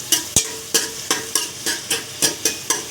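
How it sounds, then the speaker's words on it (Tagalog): Beef with ginger being sautéed in a pan before pressure cooking for beef sinigang: rhythmic stirring strokes scrape through about eight times at an even pace over a soft sizzle, close up, no talking. "Bago natin siya i-pressure cooker, igisa muna natin siya sa luya."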